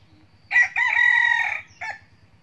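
A young rooster crows once, close and fairly loud, with a short opening note, a long drawn-out middle and a short final note, over a faint steady low pulsing hum.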